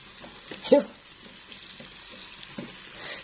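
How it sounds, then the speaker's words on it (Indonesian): Tofu fries half-done in hot oil, a soft, steady sizzle at close range with one brief utensil clink near the start. "ini tahunya aku goreng dulu ya, setengah matang aja"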